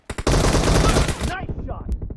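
A loud, close burst of rapid gunfire in PUBG Mobile that cuts off abruptly, followed by brief speech.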